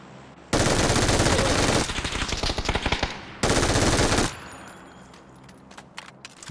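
MG3 machine gun firing in PUBG: two long, loud, rapid bursts of automatic fire, close and dominant, separated by a brief crackling pause and followed by quieter scattered shots and game ambience.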